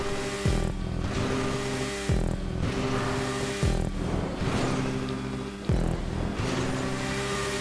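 A fast motorcycle in GTA V Online parkour revs repeatedly in short bursts, each roar cut by a sharp gear shift and drop, with a loud, close, continuous engine texture throughout.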